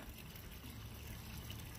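A 1,200-gallon-per-hour pump feeds a small garden pond waterfall, water splashing and gurgling in a steady, continuous low rush, faint and close.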